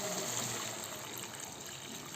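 A little water poured into simmering fish curry gravy (macha tela jhala), a steady close splashing trickle with no talk.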